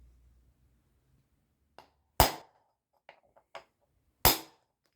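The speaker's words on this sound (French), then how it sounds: "je vais mettre un bon coup de marteau sur la rallonge" Two sharp, loud metallic hammer blows on a socket extension ring out, freeing a Peugeot 306 steering wheel, with a few lighter taps between them and no talking.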